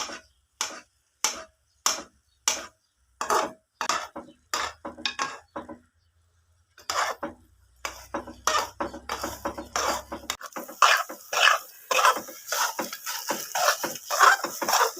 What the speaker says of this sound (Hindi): ये इस तरह चलाना चमचा, जिस तरह हम कुछ चीज़ काट नहीं रहे हैं इस तरह।